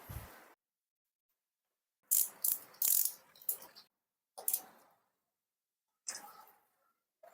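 A socket ratchet wrench clicks in short quick bursts while reconnecting a car battery terminal on a Kia Rio or Hyundai Accent, with clusters of close, crisp ratcheting separated by silent pauses.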